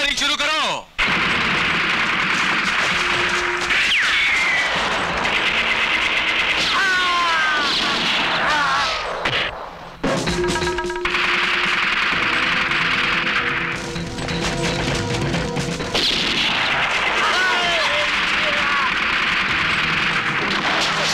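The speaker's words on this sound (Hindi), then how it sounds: "ए अफजल, अरे फायरिंग शुरू करो।" A movie shootout fills the scene with continuous gunfire and explosions: rapid bursts of shots, booming blasts and crashing debris, dense and loud throughout, with brief shouted voices mixed into the chaos.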